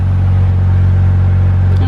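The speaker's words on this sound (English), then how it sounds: "But look how smooth this motor runs." A small car's engine idles smoothly and quietly with a steady low hum, close by, with wind buffeting over it.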